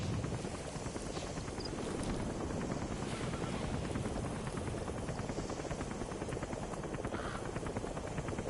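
A helicopter in Metal Gear Solid V: The Phantom Pain approaches a landing zone, its dense rotor thrum steady and constant throughout at moderate volume.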